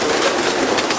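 Pigeons in a loft give a brief, close murmur of soft cooing and rustling over a dense, noisy background.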